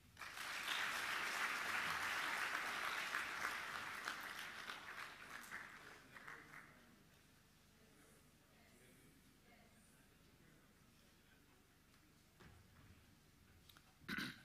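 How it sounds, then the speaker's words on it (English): Applause for the Governor of Nairobi County at a tech week event, a strong burst of crowd clapping that swells early then thins and fades into quiet room noise, with a few stray claps near the end. "Once again, a round of applause for His Excellency Johnson Sakaja, the Governor of the City of Nairobi County"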